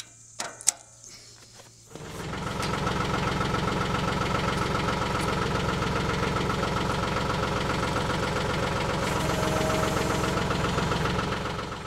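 A few clicks and clunks, then a tractor engine starts and settles into a steady, loud, knocking idle that runs on evenly to the end.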